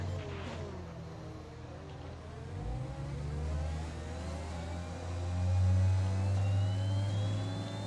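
Formula 1 car engine in a racing video game at Bahrain, a steady mid-pitched drone with rising and falling revs that swells louder toward the end, continuous and alone.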